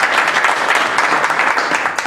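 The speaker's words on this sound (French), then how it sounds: "applaudissez pour elle." Loud, dense applause from an audience for a woman presenter fills the whole stretch, a steady wash of many hands clapping together with no break.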